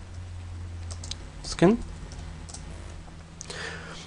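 Scattered keystrokes click on a computer keyboard during photo-editing work. The taps are light and sparse and sit under a voice speaking.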